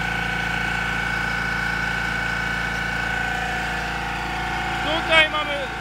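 A John Deere engine runs a deep-well water pump for crop irrigation, giving a steady, even mechanical drone with a constant whine, broken by a brief clatter near the end.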